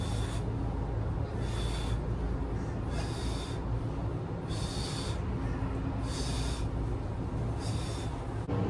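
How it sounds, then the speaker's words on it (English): Deep breath-work breathing through the nose repeats in a steady rhythm, each loud, rushing inhale close to the microphone and separated by short pauses, over a constant low rumble. "So with breath work, it's through your nose and you're expanding your stomach. So inhale, expand stomach, exhale, release."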